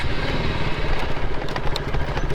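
A motorcycle engine idles with a steady, loud, clattering rumble throughout.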